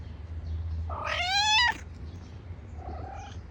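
A single drawn-out cat meow, rising and wavering, close and clear, followed by a fainter short second meow against low background hum.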